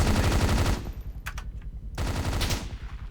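BESA HMG Model 37 machine gun firing in Arma 3 with a WW2 mod: two loud sustained bursts of rapid automatic fire, close, split by a brief pause with scattered distant shots.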